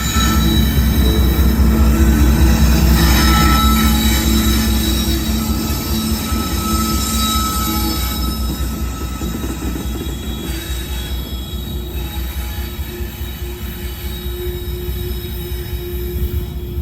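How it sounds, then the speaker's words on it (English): Freight train B216 rounds the southwest wye at Deshler, Ohio, its wheels squealing steadily and loudly against the curved rail while the cars roll past close by, with no voices. "the B216 came around the southwest Y at 10:26 a.m."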